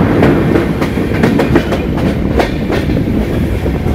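A crowded passenger train running from Chennai toward Arakkonam gives a steady, loud rumble with a rhythmic clickety-clack of wheels over rail joints, heard close from inside the carriage with no voices.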